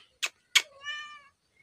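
A domestic cat gives a short, clear meow after two sharp clicks, close and quiet in an otherwise silent room.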